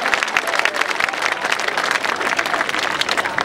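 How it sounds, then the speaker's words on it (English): An audience applauds at a health clinic groundbreaking ceremony in Los Angeles, the dense, continuous clapping of many hands filling the space evenly, loud and unbroken, with no speech over it. "You ought to clap your hands"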